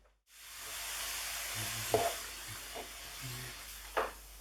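Mushrooms sizzle softly in a hot pan, with a few quiet scrapes and stirs breaking through a steady low frying hiss; no voices.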